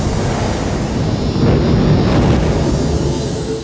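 A supernova explosion sound effect for a white dwarf blowing up as a type Ia supernova: a loud, deep rumbling roar that swells in the middle and then slowly settles, with no voices.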